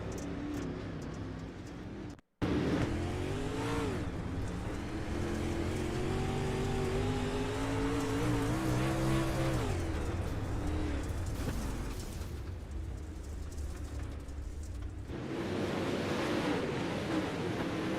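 Onboard roar of a dirt late model race car at Weedsport, engine loud and steady with rising and falling revs, wind rush, a brief cut near the start, then continuous droning to the end.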